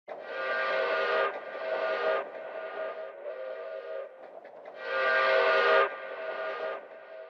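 A steam train whistle from a Super Mario video game, taken from a Universal Studios sound effects library, sounds in several long chime-like blasts with short gaps, loud and clear with no voices.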